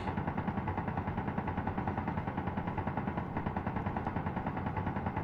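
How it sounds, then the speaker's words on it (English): A settlement gun in a Mars survival video game fires rapid, evenly spaced automatic bursts, a continuous rattling stream of shots heard at a distance and fairly faint, with no talking. "they've got a gun that wants to shoot everything"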